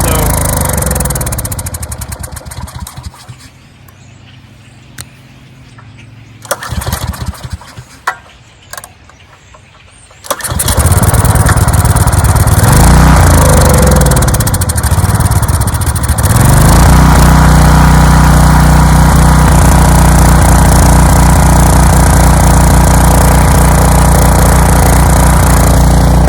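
A 14-year-old Briggs and Stratton generator that sat for over five years sputters and pulls through a few attempts, then catches and roars steadily, loud and close, running smoothly to the end.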